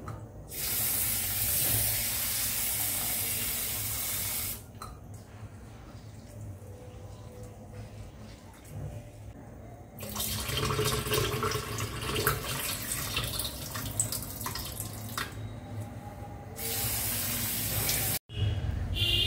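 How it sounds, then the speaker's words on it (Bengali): Tap water runs steadily onto masoor and moong lentils being washed, a loud hissing spray that briefly drops to a softer splashing before the full stream resumes, with a short break near the end. "এই ডালটাকে ভালো করে ধুয়ে নেব আগে।"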